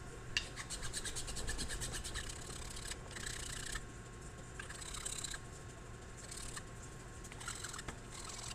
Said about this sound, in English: with the file, it's obviously not going to bend, so it's easier not to mar the wood with this